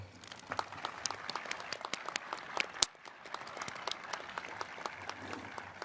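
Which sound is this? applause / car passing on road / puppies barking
applause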